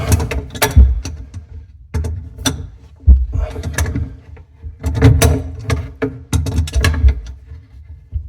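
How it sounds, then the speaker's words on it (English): Pliers working loose the fittings on PEX water lines behind a sink, giving close, irregular metallic clicks, creaks and grinding scrapes in short bursts with small pauses between them. "So I'm just using the plier to loosen the fixtures here of the PEX lines."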